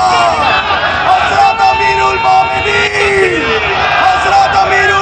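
An excited crowd chants and shouts as it rushes after the Khalifa of Islam in a street procession in Peace Village, Canada, a loud continuous mass of voices with rising calls layered over steady babble.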